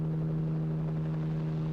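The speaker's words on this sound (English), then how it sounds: "Oh, someone actually is landing a helicopter." Helicopter landing in the video game Corpse Party: Blood Drive, a steady droning rotor hum that holds evenly and loudly for the whole stretch, with no talk.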